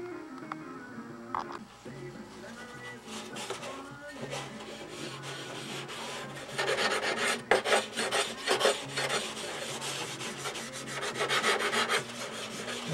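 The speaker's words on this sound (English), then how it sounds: "Then I'll trim and I'll sand it right up to this line" Abrasive sanding of a CA-glued nose ring on a Windy U Master 806 horn, a steady raspy rubbing that grows busier and louder partway through, close up with no voices.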